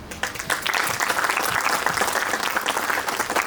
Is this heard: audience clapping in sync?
yes